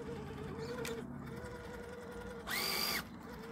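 A Redcat Gen8 RC crawler truck on RC4WD Super Swamper Bogger tires climbs over backyard terrain, its small electric motor whining softly and steadily, then surging in a brief louder burst near the end.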